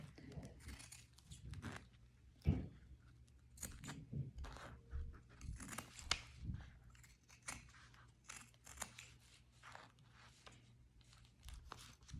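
Scissors cut through wedding gown fabric in repeated close snips and crisp rustles, with fabric handling and a few louder thumps.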